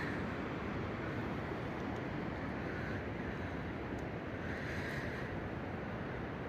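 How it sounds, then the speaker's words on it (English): A loud mountain creek in Lamoille Canyon, Nevada, rushes near a campground as a steady, unbroken broadband roar with no pauses. "Yeah, it'd be nice to be by the creek, but it's so loud."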